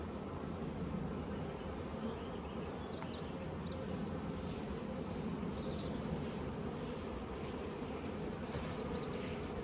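Honeybees drone around an open hive full of pollen and brood, a dense, steady buzzing close by that holds without break, with a few individual bees whining past briefly.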